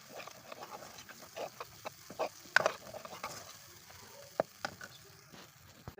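Red chili powder and salt are stirred into a frying pan of tomato masala for bhindi, with faint, irregular spatula scrapes and taps over a low sizzle.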